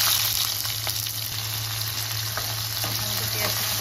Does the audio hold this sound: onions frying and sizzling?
yes